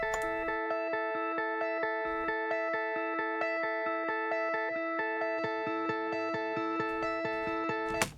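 A guitar run through the Sonible Balancer plugin plays a steady, evenly pulsing pattern of ringing, harmonically rich notes with a slightly thick, chunky tone, continuing alone for about eight seconds.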